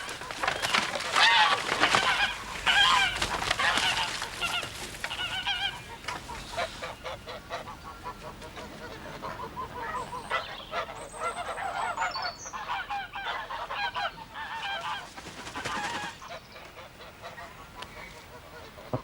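Geese honk and cackle over and over in a yard, loud and overlapping at first, then settling into steadier, thinner calls through the rest of the stretch, with no talk.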